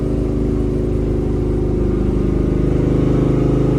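A 1968 Chevrolet Camaro RS/LS restomod with a Muncie shifter cruises at 80 mph with its windows open. A steady, loud engine drone blends with road and wind roar throughout, and no one speaks.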